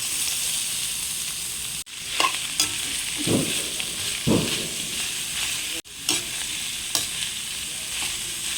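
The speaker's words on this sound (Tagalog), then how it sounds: "Magigisa tayo ng luya. Lagay na natin ang sibuyas at bawang. Ilalagay na natin yung labong." Ginger, onion, garlic and bamboo shoots sautéing in hot oil for a coconut-milk bamboo shoot dish, a continuous close sizzle broken by a few spoon scrapes and two sharp drops where ingredients hit the pan.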